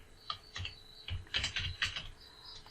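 A question is typed on a computer keyboard into an online form, quiet clicking keystrokes arriving in quick irregular bursts, close and alone without speech.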